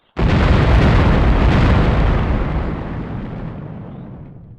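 A huge explosion in the PS2 game The Operative: No One Lives Forever, a sudden loud blast that erupts at once and rolls into a long rumbling decay fading over several seconds.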